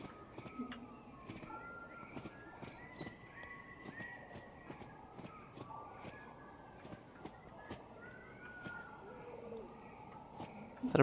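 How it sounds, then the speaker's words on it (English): Ambient bird calls sound on an island in the video game Subnautica, soft cooing and chirps scattered under faint clicking and a low background hum, quiet and distant throughout. "there are all sorts of like bird sounds and everything"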